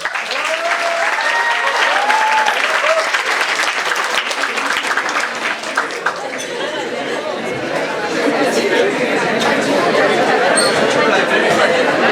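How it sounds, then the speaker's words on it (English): Audience at a literature festival applauds steadily for a performer, a dense wash of clapping mixed with crowd chatter for about twelve seconds, with a few brief tonal chirps early on. "Please encourage him with your applause."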